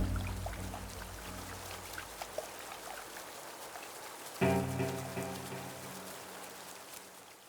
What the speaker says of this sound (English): Torrential rain begins to pour on the Masai Mara.